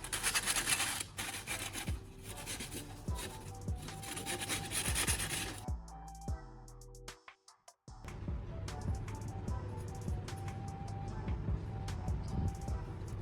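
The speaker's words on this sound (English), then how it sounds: "I'm using some sandpaper to thoroughly sand down the cut edges of the metal" Sandpaper is rubbed over the cut metal edges of an electric kettle in quick, repeated scratchy strokes, briefly pausing before the sanding resumes at a steady close-up rhythm.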